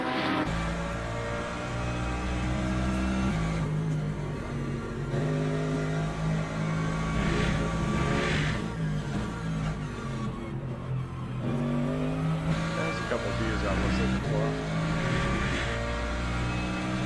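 Race cars in Le Mans Ultimate, including a Lamborghini, racing at Bahrain International Circuit, with engines revving and accelerating continuously through gear changes, loud and close, with several cars audible together.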